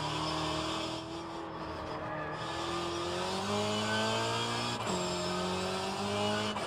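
A Peugeot 406 BTCC touring car engine from 1990s British touring car racing in rFactor 2 drones steadily, its pitch climbing through the gears with a brief upshift dip, heard alone and near.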